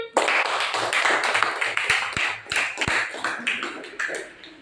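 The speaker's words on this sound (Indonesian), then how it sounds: "Tepuk tangan" Students clap their hands together in a classroom, a dense, lively round of applause that carries on for several seconds with a few sharper individual slaps standing out.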